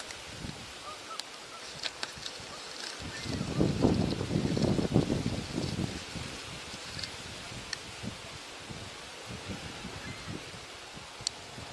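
A distant flock of snow geese honks in a noisy, overlapping chorus that swells for a few seconds, then thins out to scattered calls.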